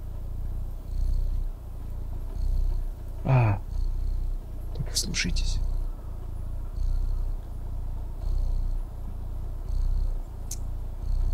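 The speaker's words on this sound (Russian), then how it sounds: "О, мы мурлыкаем." A cat purrs in the video game Stray, a steady low rhythmic rumble running throughout, with a couple of short cat calls breaking in, while a person talks over it.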